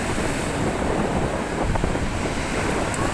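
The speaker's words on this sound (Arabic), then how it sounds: "بصوا الامواج عامله فيهم ايه" Rough Mediterranean Sea waves crash onto a beach under a black warning flag, making a continuous loud roaring wash of surf mixed with heavy wind buffeting the microphone, steady throughout with no voices.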